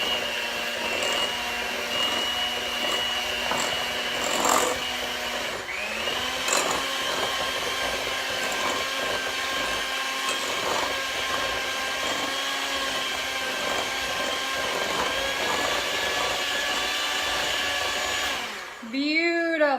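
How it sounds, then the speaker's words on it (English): Electric hand mixer whirring steadily through a thick peanut butter ball mixture, a loud continuous motor drone with slight pitch shifts, ending with the motor winding down. "So get your mixer, mix it up real quickly."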